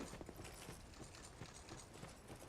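Footsteps in the video game Dark Souls 2 form a faint, steady run of soft rhythmic clip-clop thuds over a hissy background.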